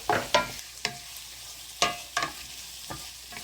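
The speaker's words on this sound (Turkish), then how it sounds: "patlıcan ekleyelim. Güzelce karıştıralım." Eggplant stirred into bulgur frying in a pan for eggplant bulgur pilaf: a soft sizzle broken by several sharp spoon scrapes and clacks at an uneven pace, close by.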